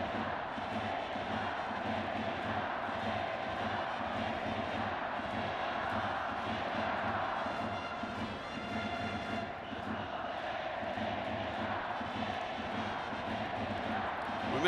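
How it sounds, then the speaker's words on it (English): Steady, dense crowd roar fills a baseball stadium during an international game between Japan and Australia, a continuous loud wash of cheering and noise with no breaks. "It gets the crowd back into this ball game"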